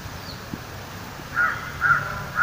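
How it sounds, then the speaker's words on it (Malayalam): Crows caw outdoors beside an old mosque in Nadapuram, a few short distant calls over a quiet background. "കാക്കകളുടെ കരച്ചിലാണ്"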